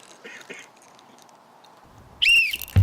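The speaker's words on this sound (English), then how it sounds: "So your 5 minutes will start when I blow my whistle." A whistle blown to start a five-minute timed team task, a sharp rising-falling shrill blast near the end after quiet murmuring room sound, followed by a thump.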